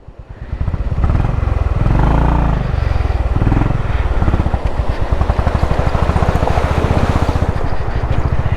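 A motorcycle engine runs steadily and loudly close by on a rough mountain road between Spiti and Manali. It rises in revs near the start, then settles into a constant chugging drone with no speech.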